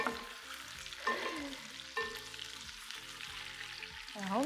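Small quails sizzle in hot fat in a pan while being turned, a close, steady frying crackle broken by a few sharp clinks and scrapes of the utensil against the pan, with no talking.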